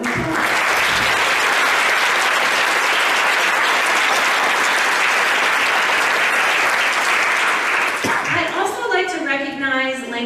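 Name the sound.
round of applause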